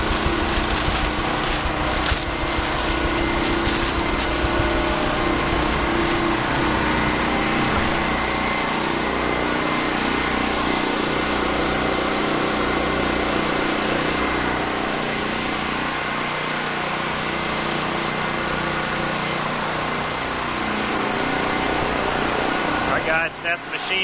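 An insulation blowing machine grinds up fiberglass and blows it through a hose for a post-frame home's attic ductwork, making a loud, steady mechanical roar and whir that runs continuously throughout.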